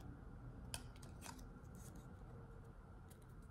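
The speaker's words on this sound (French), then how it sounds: "À l'aide de mon ciseau, pareil, je découpe l'excédent de chaque côté." Scissors cut paper while a pop-up card is being made. A few quick snips sound close over a low, steady background hum.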